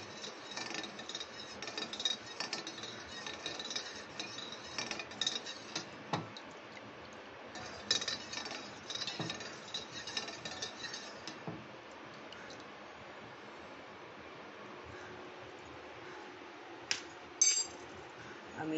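Spoon stirring juice mixed with agar powder and sugar, small intermittent clinks and scraping rubs against the container, faint and close, with occasional sharper taps.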